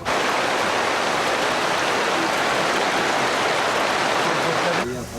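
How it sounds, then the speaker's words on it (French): Steady, dense hiss of rain pouring down close by, constant and loud for several seconds before it cuts off abruptly near the end. "La pluie ne se voit pas."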